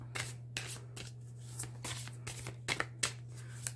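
Oracle cards shuffled and drawn from a deck, giving a run of soft, quick papery flicks and slides close by, over a steady low hum.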